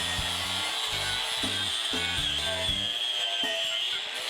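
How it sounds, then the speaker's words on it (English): An angle grinder cleaning up a cut steel frame stiffener piece for a Jeep Cherokee XJ unibody, whining steadily and loudly throughout, with rhythmic rasping pulses as it works the metal, close up and with no talk. "size her up, trace her out, and clean her up with the grinder"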